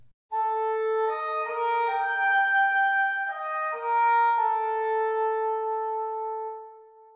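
A woodwind ensemble sample with TC Hall reverb added plays sustained, overlapping chords that change a few times, smooth and moderately loud, with a lingering hall tail as the notes fade.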